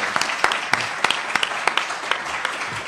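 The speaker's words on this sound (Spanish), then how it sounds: "Pido un fuerte aplauso para el maestro Eduardo." Loud applause for a teacher at a school reading event, dense clapping with sharp individual claps standing out, steady and close, with no talk over it.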